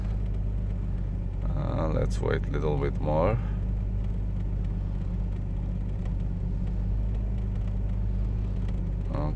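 A car engine idles steadily after a jump-start, a low constant rumble with a brief rise when the gas is pressed, while someone talks over it nearby.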